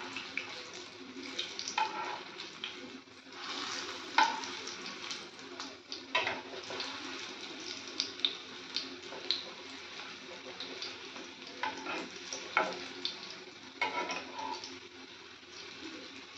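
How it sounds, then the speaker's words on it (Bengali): Bhaja pitha frying in hot oil, added a few at a time, giving a steady close bubbling sizzle with soft scattered pops and some light background clatter throughout. "তেলটা গরম হয়ে গেছে, এবার আমি এক এক করে ভেজে নেব।"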